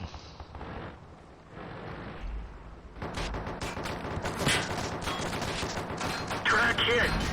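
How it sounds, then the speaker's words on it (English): Artillery fire in the tank game World of Tanks: heavy booming shots and rumbling impacts over continuous battle noise, with players talking throughout. "Artillery."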